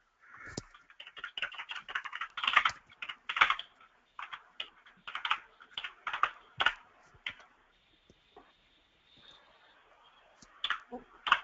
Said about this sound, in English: you would type in the program name here